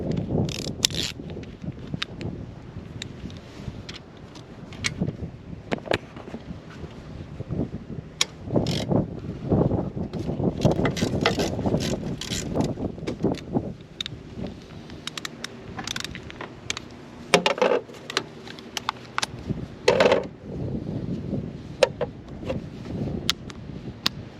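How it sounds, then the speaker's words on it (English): A Milwaukee ratchet spins off a 14 mm bolt during alternator replacement on a 2001 Toyota Camry, giving a steady run of close mechanical clicking and whirring with intermittent clanks and tool knocks throughout. "So now I'm gonna go ahead And remove this bolt right here."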